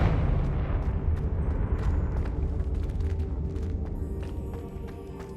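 A Confringo fire spell explodes in Hogwarts Legacy, a loud, sustained roaring blast full of crackling pops that slowly fades over several seconds.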